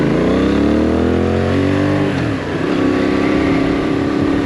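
A Benelli 752S naked sports motorcycle accelerating hard without a downshift, its engine note climbing steadily in pitch and volume, loud and close, then dropping back into a rougher, lower drone.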